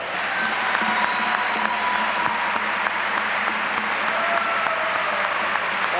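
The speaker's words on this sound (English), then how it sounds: "Don Shondell receiving a standing ovation from a great crowd here at the Gate Center" A dense, steady standing ovation fills the Gates Center volleyball arena, with a great crowd clapping continuously and loudly throughout, honoring a retiring men's volleyball coach.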